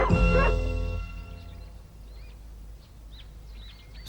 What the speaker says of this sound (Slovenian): Pes je Pepija gotovo zamenjal za klobaso